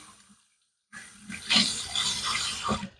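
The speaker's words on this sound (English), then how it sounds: "let me just wash my hands here" Tap water runs into a sink while hands are washed beneath it, a steady close splashing that starts abruptly after a brief silence and continues with shifting, bubbling texture.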